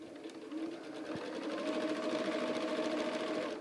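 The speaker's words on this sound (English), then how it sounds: "I'm going to clip the thread right here and continue to sew." A sewing machine stitches binding onto a Christmas tree quilt, running as a steady, continuous whir at close range for the whole stretch with no pauses and no voices.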